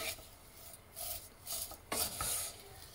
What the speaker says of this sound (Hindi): इस तरह से आप चम्मच हलाते हुए इसको बस हल्की आंच पे थोड़ा सा भूनना